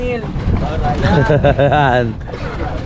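Strong wind buffets the microphone with a steady low roar, while someone talks loudly over it throughout.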